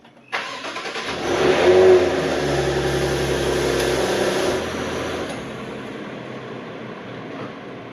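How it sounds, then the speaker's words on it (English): A 2018 Maserati Ghibli starting up: a click, then the engine cranks and catches with a rising roar that peaks around two seconds and settles into a steady idle hum, close and fairly loud, with no voices. "I'm going to show off starting up the car"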